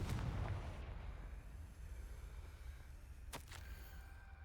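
A Confringo blasting spell in Hogwarts Legacy goes off with a low explosive boom that fades into a rumble, followed by a sharp crack near the end.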